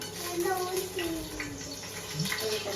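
Water poured into a pot of chicken biryani with its fried spices and garam masala, a steady close splashing gush running throughout under faint background voices.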